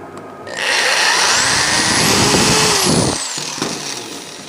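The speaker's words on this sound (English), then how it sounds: "we're going to countersink it with a countersink, and then it doesn't take much" A countersink bit driven by a power drill cuts a screw hole, a steady close whirring grind that swells for about two seconds, then eases off with a short final burst.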